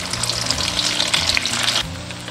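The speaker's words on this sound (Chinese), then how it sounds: "煎豆腐一定要等它一面定型了再给它翻面，这样子它都不会破" Tofu sizzles in a pan over medium-low heat, a loud continuous crackling fry that drops away sharply near the end.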